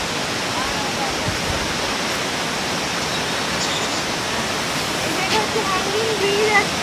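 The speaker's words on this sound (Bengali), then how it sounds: "এই ঝর্ণার জলটা যাচ্ছে, আওয়াজ হচ্ছে" A mountain waterfall at Zuluk in East Sikkim roars continuously beside a swaying hanging bridge, a steady close broadband rush with faint higher calls now and then.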